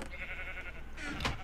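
A Minecraft sheep bleats once, a short wavering bleat heard close over a quiet game background with faint voice nearby.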